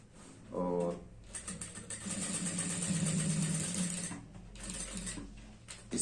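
A sewing machine stitches a zip into a girl's skirt, whirring steadily for a few seconds with soft mechanical clicking while someone talks around it.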